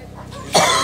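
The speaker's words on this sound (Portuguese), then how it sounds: "agora a tosse misturou tudo aí" A woman coughs in a sudden loud burst after smoking snuff, rough and harsh, following a quieter stretch of low background noise.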